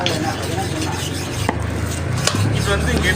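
Koduva fish is cut into pieces with scraping, chopping knife strokes and occasional sharp knocks, close and busy under faint background voices.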